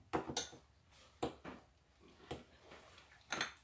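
Overnight oats are stirred together in a bowl, giving faint, close clinks and scrapes of a utensil against the dish in a few separate bursts with quiet gaps between them and no talking.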